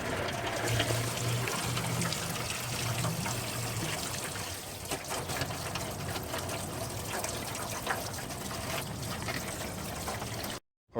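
Coolant trickles and splashes from a Honda Civic radiator drain into a catch pan below, a steady close pouring stream running throughout with slight shifts in flow.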